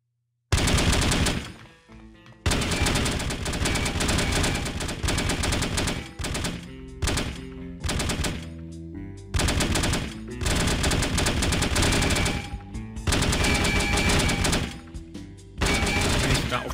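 Loud, dense bursts of automatic gunfire from the video game No One Lives Forever, rapid and sustained volleys broken by short pauses and scattered single shots.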